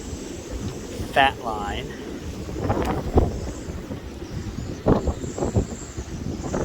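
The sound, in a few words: relentless hurricane wind on a boat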